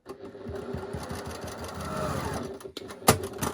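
A sewing machine stitches half square triangles for a quilt with a fast, even mechanical whir and ticking run, close and steady, before pausing near the end, followed by a short sharp clack.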